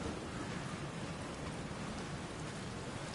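Steady rain and thunderstorm noise from a video game fills the clip as an even, dense hiss of downpour, faint and continuous with no speech.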